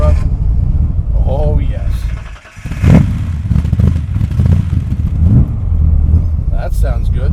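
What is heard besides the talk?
Superformance 1965 Shelby Daytona Coupe engine starting and running, side pipes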